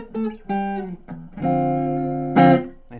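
Clean electric guitar through a small Ibanez IBZ10G practice amp, a few warm single notes and chords ringing out clearly and sustaining, with one brighter strum near the end.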